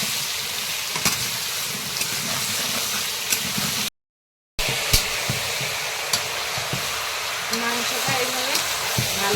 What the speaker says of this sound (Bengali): আলুর মাপ মতো একটু লবণ দেবো আর একটুখানি অল্প করে হলুদ দেবো দিয়ে আলুটা ভেজে নেবো